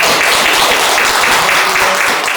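Applause for a doctor at a youth political reform debate: a dense, steady wash of clapping that holds at an even level for the whole short stretch, close and full.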